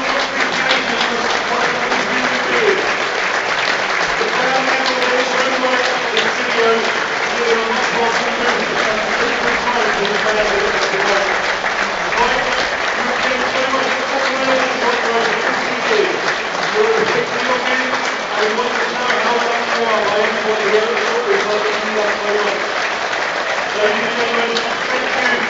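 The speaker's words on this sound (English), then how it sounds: "the announcement's going on at the same time as the applause" Applause from a football crowd at Aldershot Town's stadium fills the whole stretch, steady and dense, with a public-address announcement and commentary voices running over it.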